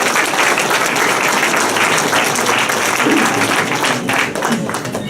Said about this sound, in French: Ils méritent des applaudissements.